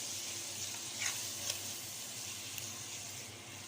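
Tomatoes and onion sizzle in a pot on the stove, a steady soft frying hiss with faint stirring clicks, alone and fairly quiet throughout.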